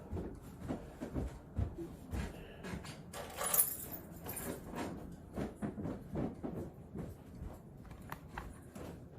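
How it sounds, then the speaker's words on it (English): Honda car keys jangling close by in a series of light, scattered metallic clinks lasting several seconds, fairly quiet with no speech. "Do you have the Honda keys?"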